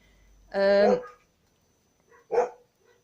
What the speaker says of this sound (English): that's the dogs barking